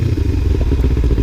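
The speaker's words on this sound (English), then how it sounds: "If you need to slow down fast, downshift." A motorcycle engine downshifting to slow down, a close, loud, rough burbling rumble with clattering pulses as the revs change, brief and with no talking.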